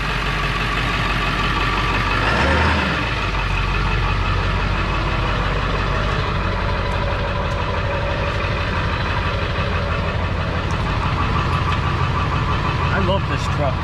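Pickup truck engine idling at a tree-cutting job, a loud, steady low rumble that runs throughout with a slight knocking character and one brief swell early on.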